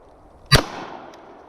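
A single sharp pistol shot from bump firing, close and loud, with a short echoing decay and then quiet.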